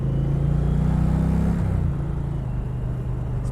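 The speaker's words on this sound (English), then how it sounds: "It's beautiful, beautiful engine sound." An Indian Challenger Dark Horse motorcycle engine runs with a loud, steady low rumble that eases slightly partway through and then settles into a continuous idle.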